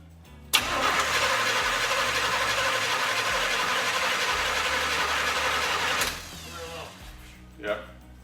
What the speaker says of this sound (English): Let's go ahead and go for first fire up